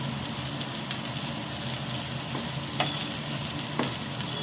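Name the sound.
kitchen chimney range hood running while onions fry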